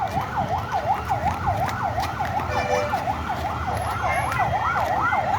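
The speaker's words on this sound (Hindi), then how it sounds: "बुलाए फायर इंजन की आवाज़ आ रही।" A fire engine siren at a blaze in a garage, wailing up and down in a fast, regular cycle, loud and steady over traffic rumble.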